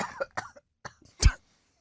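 A single sharp, close cough comes after a few short throat sounds and breaths, then quiet.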